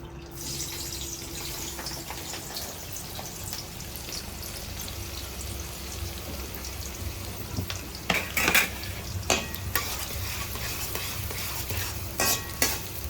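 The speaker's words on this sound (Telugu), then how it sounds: "ఇప్పుడైతే ఆయిల్ హీట్ ఎక్కింది కదా మనం ఉల్లిపాయలు పచ్చిమిర్చి వేసుకుందాము ఇందులో" Chopped onions and green chilies sizzling in hot oil for a gongura-and-cucumber curry, a continuous crackling fry under brisk stirring, with sharper metal spoon-on-pan scrapes and clinks bunched toward the end.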